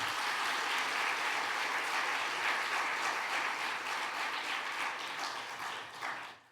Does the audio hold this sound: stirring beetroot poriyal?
no